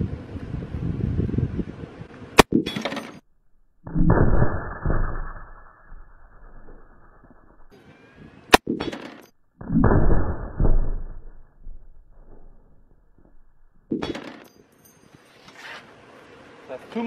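Two loud, sharp 12.7 mm sniper rifle shots hitting the bulletproof glass of a tank driver's periscope, each a sudden crack followed by a ringing, sustained hum, separated by quieter stretches with some noise at the start and end.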